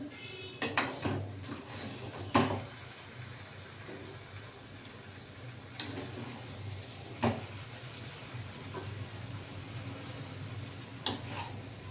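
A plate is set down in a home kitchen while a Bengali wedding-style dish is served, giving a few light clinks and knocks of crockery against a faint, steady background hiss.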